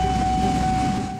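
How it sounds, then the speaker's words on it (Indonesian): A long freight train of many wagons rumbles past close by, a steady low rolling roar with a faint high tone above it, easing off slightly at the end. "Tadi Ali melihat rangkaian gerbong kereta api yang panjang sekali."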